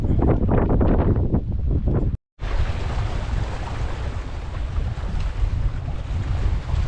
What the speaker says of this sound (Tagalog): Maliwanag yung araw pero mahangin at malamig